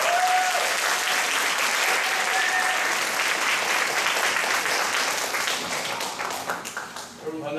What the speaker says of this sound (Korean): 목사 나오실 때 큰 환영의 박수로 맞아주십시오